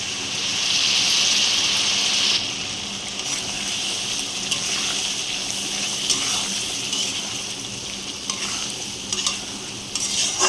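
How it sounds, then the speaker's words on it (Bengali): A small splash of water from a rinsed spice bowl goes into a simmering egg curry, a loud hissing rush at first that settles into steady bubbling sizzle with light stirring, no talk. "মশলার পাত্রটা ধুয়ে একটু সামান্য জল দিয়ে দিলাম।"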